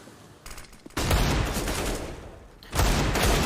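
Counter-Strike gunfire on the Mirage map during a DreamHack Open Summer 2019 match, with loud, dense bursts of rapid shots that continue in a sustained volley, pause briefly, then resume, with no one talking.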